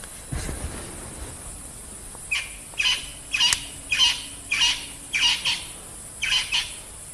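Crested francolin calls from the bush on an evening safari drive, a series of about eight harsh, rhythmic squawking bursts at moderate distance over a faint insect hum.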